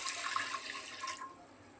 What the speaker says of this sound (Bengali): দিয়ে দেব পরিমাণ মতন জল।